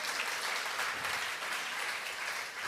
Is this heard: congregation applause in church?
yes